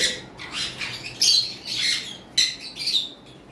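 Conure parrots give a series of sharp, bright squawks and chirps in short bursts, close and fairly loud, with brief pauses between calls.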